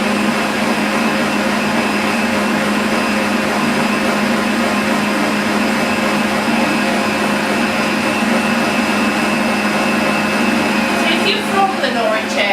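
An electric mixer whisks a tiramisu mixture with a loud, constant high whine that holds steady for over ten seconds, with a brief clatter near the end.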